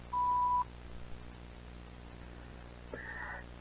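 An answering machine gives a single clean, steady electronic beep lasting about half a second, followed by faint tape hiss and a short burst of noise.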